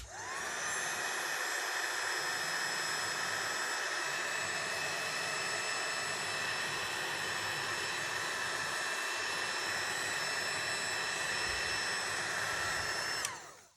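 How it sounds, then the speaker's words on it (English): A heat tool blows steadily to dry alcohol inks on acetate, giving a loud, even whine that runs unbroken for over ten seconds before it cuts off sharply. "If you decide to use a heat tool to dry, don't bring it too close to this."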